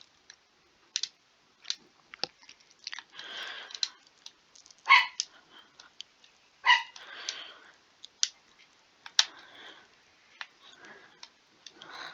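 Cartoonish dog barks from a creature-collecting role-playing game, several sharp yaps scattered at irregular intervals, fairly close and standing alone over a quiet background.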